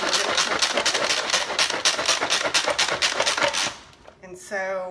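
Manual pull-cord food processor chopping onions, jalapeno and cilantro, a loud rapid series of rattling whirring bursts that stops near the end, followed by a brief voice.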